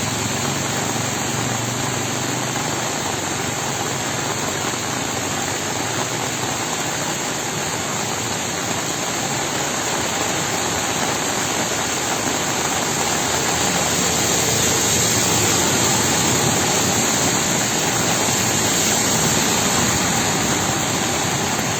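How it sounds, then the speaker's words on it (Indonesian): Heavy rain pours steadily over a flooded village in Jatitujuh, Majalengka, with floodwater rushing alongside as a constant loud, broadband roar and no pauses, and a faint engine hum mixed in. "Dan mudah-mudahan curah hujannya cepat berhenti."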